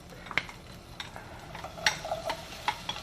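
Onions sautéing in olive oil in a pan over lowered heat, a soft steady sizzle under repeated clinks and scrapes of a utensil stirring against the pan, close and fairly quiet with no talking.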